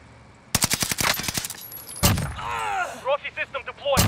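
Gunfire in Call of Duty on Rebirth Island, a rapid automatic burst followed by a sharp blast and later shorter shots, loud and close, while a voice talks over part of it.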